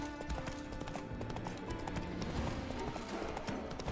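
Hooves of the horse Roach clip-clop in a brisk steady rhythm in The Witcher 3, fairly close and continuous over game ambience and music.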